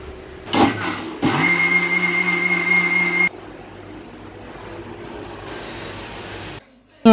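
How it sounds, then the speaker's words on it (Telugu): A kitchen mixer grinder blending chutney runs loud and steady for about two seconds after a brief start-up whir, then drops to a lower hum before cutting off. "ఇలా వేసుకొని మనము చట్నీని మిక్సీ పట్టుకోవాలి."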